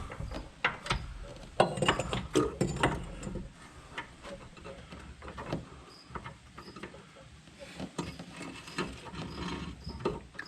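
A wrench on a leverage bar working a tight brake bolt on a 2006 Nissan Altima, giving a run of close metallic ratcheting clicks and creaks, busiest at first and then thinning into scattered ticks with faint background noise.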